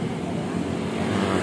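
A motorized pedicab (becak motor) riding along in Malang, its engine giving a steady, continuous drone with road noise throughout, while people talk over it nearby.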